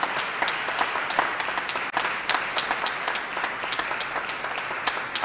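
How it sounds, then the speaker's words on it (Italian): A large audience applauds new choir directors at a choral school ceremony, a dense, sustained wash of clapping filling the room at an even level throughout. "Grazie a tutti questi nostri direttori di coro, nuovi direttori di coro. Un grande applauso."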